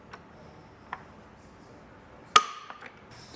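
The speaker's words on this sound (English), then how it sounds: "tighten down that bolt fully until you hear some clicks from your tool letting us know it's torqued down properly" A torque tool clicks as it tightens a bolt on an Inno Aero flush roof rack mounted on a 2022 Ford Maverick: a faint tick early on, then one sharp, close click with a few quieter clicks after it.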